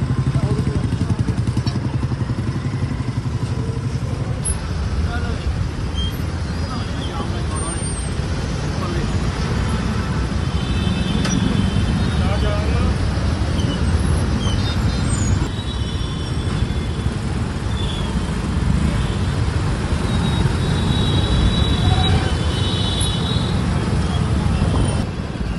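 Heavy traffic jam of trucks and buses on the Jagraon bridge in Ludhiana, producing a constant loud rumble of engines and road noise with passing vehicles swelling and fading, and voices faintly audible amid the din.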